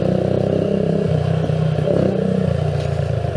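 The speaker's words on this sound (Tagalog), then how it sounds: "Maingay ang aking motor." Keeway CR152 motorcycle engine droning steadily while riding, a loud continuous low rumble with rattly clatter and no break across the whole stretch.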